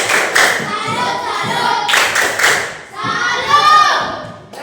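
Schoolchildren in a classroom performing the tepuk salut clapping chant, several bursts of rhythmic group hand claps with slaps and thuds, close and lively, mixed with children's chanting voices.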